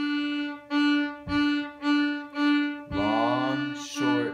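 A fiddle plays a steady pattern of one long note followed by three quick short ones, repeated, then a sliding phrase.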